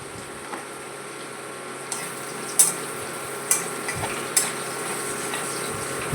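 Curry leaves sizzle steadily in hot oil as chira pulao is cooked, with a spoon stirring them through the pan and a few sharp clinks of metal against the pan standing out.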